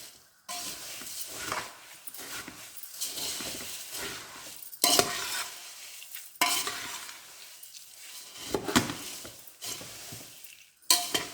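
Puffed rice (kara pori) with chilli spice being stirred in a vessel, producing a steady, close rustling crunch in long sweeps broken by a few short gaps and sharper scrapes of the spoon against the pan.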